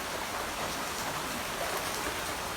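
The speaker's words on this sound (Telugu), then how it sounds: "బయట వర్షం పడుతుంది." Rain falls outside on a rainy evening, a continuous, even hiss with no breaks, heard alone at a steady level throughout.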